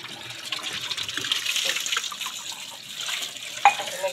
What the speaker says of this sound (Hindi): मैं गिलास जो है ये धो लेती हूँ